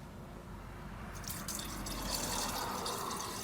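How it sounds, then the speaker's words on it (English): New coolant pours into the radiator reservoir of a 1997-04 Ford F150, a soft gurgling trickle of liquid that grows and splashes more steadily as the pour continues, close and fairly quiet. "So start putting in new coolant. The coolant goes in through the reservoir."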